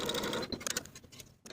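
Sewing machine running basting stitches along the pocket of culotte pants, a steady close mechanical whir that stops briefly partway and restarts, with no talking.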